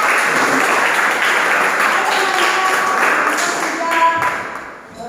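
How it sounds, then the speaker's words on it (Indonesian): Classroom of students applauding a presenting group after its report, a full burst of clapping with voices over it and a few sharp taps as it thins out. "Tepuk tangan untuk kelompok."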